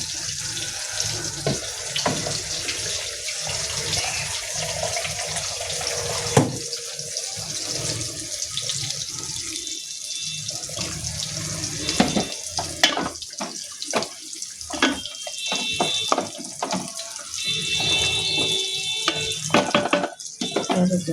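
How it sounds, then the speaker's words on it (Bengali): Water pours and splashes into a cooking pot of potato and chicken curry, an uneven running and gurgling stream with clattering utensil knocks, close and alone without speech. "আর একটু পানি এসে দিতে হবে"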